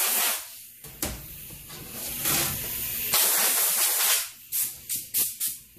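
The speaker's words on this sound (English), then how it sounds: "Go ahead and get our blower and just blow off the chip." Compressed-air blower blasting metal chips off a CD4E transmission part on a workbench, a loud continuous hiss that steadies, then breaks into several short sharp bursts near the end.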